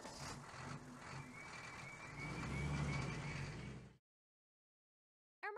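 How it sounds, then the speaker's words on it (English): A crane truck engine rumbles steadily while a reversing beep sounds repeatedly, and the engine swells before everything cuts to silence, followed by a brief burst at the end. "Crane."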